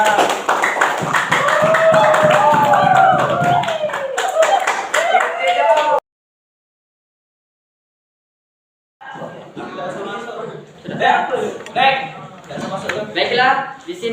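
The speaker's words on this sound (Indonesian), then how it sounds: "Tepuk tangan untuk mereka." A group in a classroom discussion session claps for a presenting team, a dense burst of applause lasting about six seconds, then a gap of silence before voices and murmur return.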